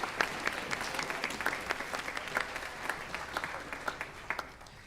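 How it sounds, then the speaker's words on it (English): An audience claps steadily at a school band concert in a hall, a dense, moderately loud patter of hands with sharper individual claps standing out, no voices over it. "offer you a round of applause"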